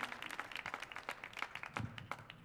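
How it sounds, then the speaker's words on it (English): Audience clapping at a live roots music concert on the Millennium Stage: a dense, steady patter of many hands clapping at moderate volume, with no voices. "The claps sound good."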